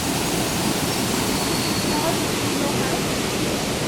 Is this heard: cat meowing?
no